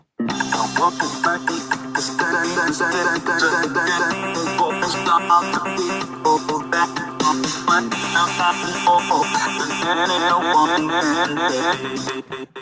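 Heavily processed, stuttering vocals with glitchy chopped artifacts from the Logic Pro Beat Breaker plugin over a dense, continuous music backing, loud throughout.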